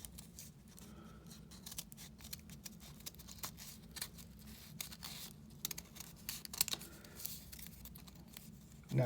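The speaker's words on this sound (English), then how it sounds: "I actually cut all the way off the paper" Scissors snip through paper in a steady run of small crisp cuts and rustles, faint and close, with no voices.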